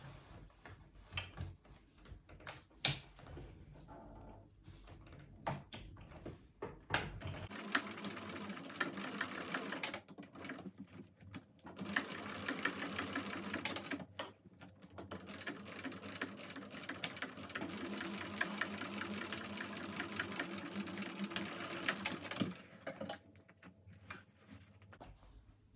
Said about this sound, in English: So sew it from the side.